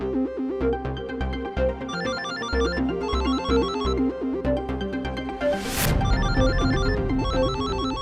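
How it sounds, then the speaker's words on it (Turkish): A melodic electronic ringtone loops over and over, bright and repetitive, with a whooshing sweep partway through as the tune keeps going. "Sana söylüyorum telefonun çalıyor duymuyor musun?"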